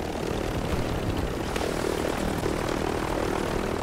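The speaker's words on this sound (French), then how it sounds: "Je vais avec l'hélico." Helicopter flying in the Call of Duty Warzone video game on Rebirth Island, a steady loud engine and rotor drone filling the whole stretch without pause.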